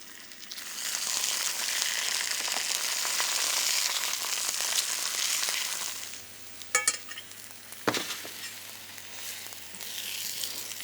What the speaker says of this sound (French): Donc on va poser nos lamelles de courgettes. Et on va les poêler 1 à 2 minutes de chaque côté.